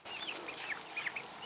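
Several chickens cluck and chirp softly in short, high calls scattered over a faint background hiss.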